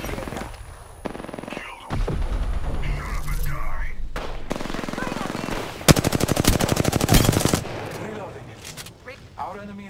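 Rapid automatic gunfire in Apex Legends, with a dense burst of closely spaced shots in the middle and a lull after, set among game effects and a voice.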